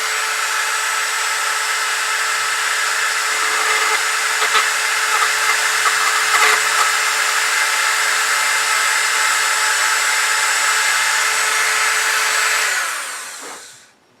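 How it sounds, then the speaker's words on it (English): A diamond burr drilling into a sea urchin shell gives a steady high whine with a gritty grinding edge, running continuously for about thirteen seconds before spinning down at the end. "I've swapped that stone burr out for this diamond burr."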